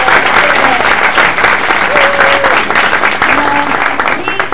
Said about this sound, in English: So I just want everybody to give a round of applause to the people that make this